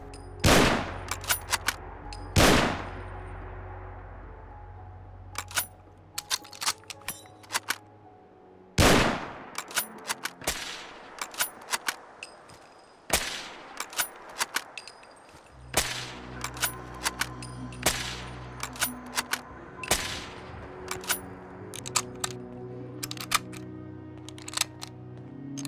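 Modded rifle fire in the Fallout 4 video game: loud, sharp gunshots ring out singly and in rapid bursts, each with a ringing metallic tail, spread across the whole stretch with no talk.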